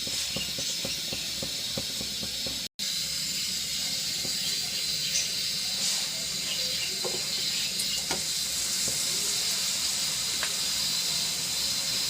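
Mooli paratha frying in ghee on a hot pan gives a steady soft hiss and sizzle, continuous and fairly quiet, with a few faint clicks and one brief dropout.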